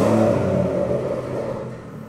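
A 550 hp BMW M140i engine rumbles low and steady just after being started, the idle settling and fading slightly over two seconds, close by with no talk.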